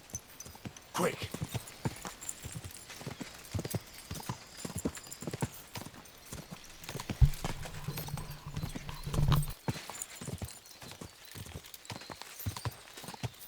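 Steady rhythmic clip-clop of horse hooves trotting in Kingdom Come: Deliverance II, with a brief whinny, under people talking excitedly.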